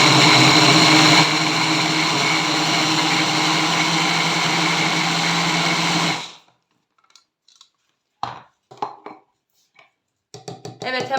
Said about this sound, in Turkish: hemen sonuncu domatesimizi de robotumuzdan geçirelim ve sonlandıralım